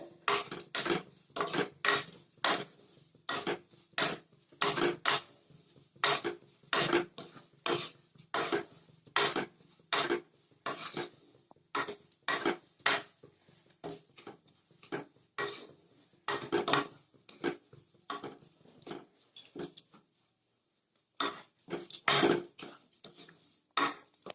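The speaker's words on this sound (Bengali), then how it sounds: "চিনিটাকে দিয়েও ভালো করে নাড়াচাড়া করতে হবে।" Semolina and sugar stirred in a pan for barfi pitha: rhythmic repeated scraping taps of a spoon against the pan, quiet and close, continuing in regular strokes with a short pause before resuming.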